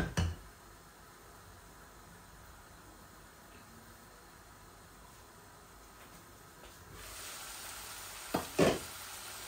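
Shrimp with pointed gourd curry fries in oil in a covered pan, giving a faint, steady sizzle that swells louder near the end. A few sharp clanks of a lid or utensil come at the start and finish.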